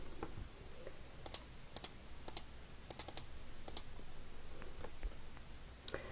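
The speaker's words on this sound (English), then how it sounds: "type in any number with several digits" Several digits tapped on a calculator keypad, with quick plastic clicks in small uneven clusters, close and fairly quiet, and no talking.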